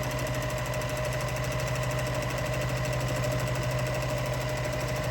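A sewing machine quilting a meander stipple design runs at a fast, steady stitching pace, its rapid mechanical chatter close and continuous with no pauses.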